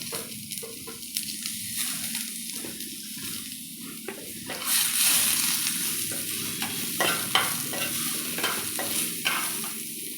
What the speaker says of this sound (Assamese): এতিয়া মই পেনখনত দিম অলপ গোটা জিৰা, দুটা শুকান জলকীয়া আৰু এটা তেজপাত